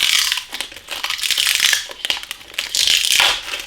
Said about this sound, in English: So we'll take this protective wrap off